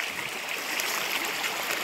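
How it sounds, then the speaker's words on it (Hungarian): A small mountain stream in the Carpathian hills, running low, rushes and burbles in a steady, close, broadband wash with no voices. "a maga nemében ez is gyönyörű, ez a almás patak"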